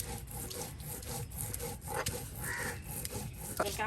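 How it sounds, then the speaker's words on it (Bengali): Cumin and ginger being ground on a stone slab with a rolling stone, a steady rough rubbing and scraping that continues without pause, close and moderately loud, with no talk. "দেখুন কত সুন্দর করে একদম বেটে নেওয়া হচ্ছে জিরা, তার সাথে আপনার আদাগুলো"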